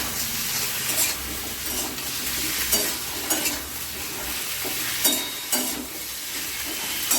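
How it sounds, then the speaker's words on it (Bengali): Snake gourd pieces frying with turmeric in hot oil, a loud continuous sizzle with intermittent sharper crackles and stirring scrapes, no talk. "সামান্য হলুদ দিয়ে ভেজে নেব লাল লাল করে ভেজে নেব"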